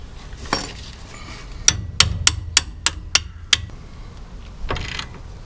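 Sharp metallic clanks strike in a quick series of about eight hits as a shock absorber is bolted back onto a Dana 44 axle, loud and close with a quiet garage background before and after.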